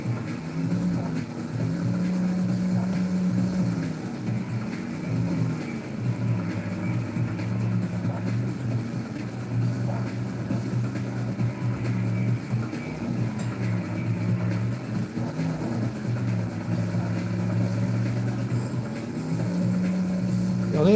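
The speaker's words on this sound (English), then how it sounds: "You can hear the engine noise kind of creeping up" Opponent trucks in the racing game 4x4 Evo on a Dreamcast, a continuous droning engine hum that rises and falls in pitch as they close in from behind.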